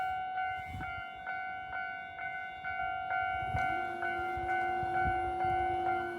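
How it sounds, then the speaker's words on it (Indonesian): Repeated bell-like chimes and a steady tone ring out over a passing train rumble in Kawagoe, Japan, with a train horn note joining partway through. "Ini ada kereta."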